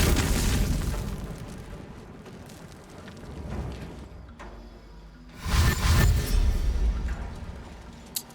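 Fire spell explosions in the Baldur's Gate video game: rumbling booms and crackling bursts, one loud blast near the start and another surge later, with no talk.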